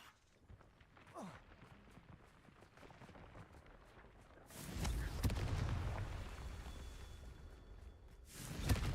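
A Confringo fire spell bursts in Hogwarts Legacy, a sudden roaring blast that swells and rumbles for a few seconds, then flares again briefly near the end, following quieter footsteps and game ambience.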